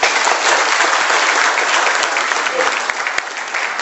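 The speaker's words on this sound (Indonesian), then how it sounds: "Aplaus yang meriah." Loud, enthusiastic audience applause fills a presentation hall, a dense steady wash of many hands clapping at close range that carries on unbroken and eases slightly toward the end.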